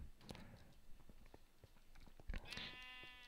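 Sheep bleat once near the end, fairly clear, in a video game farm scene with horses, preceded by soft hoof-like clops and light ambient game noise at low volume.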